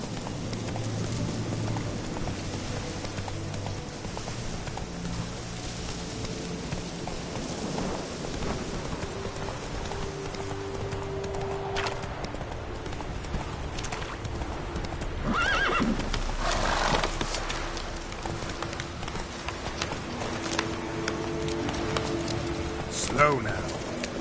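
In The Witcher 3, a horse gallops with rhythmic clip-clop hooves and gives loud neighs and whinnies, with rain pattering and birds in the game background and a voice speaking over it.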